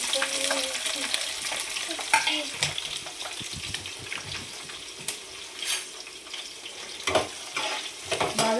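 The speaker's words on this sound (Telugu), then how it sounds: "బాగా రెడ్ కలర్ వచ్చేలాగా ఫ్రై చేసేస్తుంది" Cumin, green chilies and onions sizzle and fry in hot oil for a traditional fish curry, a steady crackling hiss broken by clinks and scrapes of stirring, close and fairly loud with no talk.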